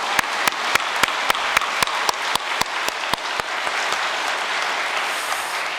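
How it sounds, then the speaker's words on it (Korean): A church congregation applauds in thanks at a New Year's prayer service: a dense, sustained wash of clapping with a few sharp, evenly spaced loud claps riding on top for the first three seconds, then a steady, gradually thinning applause. "간절한 감사의 박수 한번 부탁드리겠습니다"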